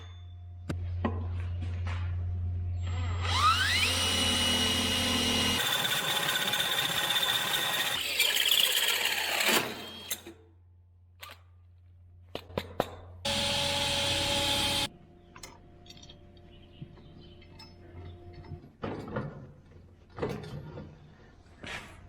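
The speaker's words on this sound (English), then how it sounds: "We're gonna cut 2 pieces of channel." Steel channel pieces for a welding project are cut with a shrill metal-cutting squeal in several bursts, broken by pauses, clunks and steady shop hum, heard close with no talk.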